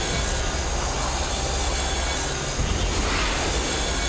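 A train rolls down a railway in a video game, a dense continuous rumble and rushing roar with faint metallic squeal, loud and close throughout.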